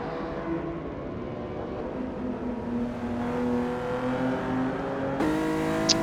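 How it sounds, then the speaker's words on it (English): Race cars speed past the start-finish line at Brands Hatch in a racing game, heard at a distance as a steady droning engine whine that rises slightly, with a sharper engine tone entering near the end. "You can see all the cars going past the start-finish line off in the distance."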